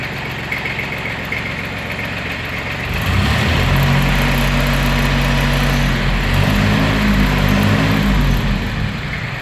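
A Japanese ISEKI GEAS 21 mini tractor engine idles with a steady low rumble and vibration, louder and fuller after the first few seconds, running evenly and close by.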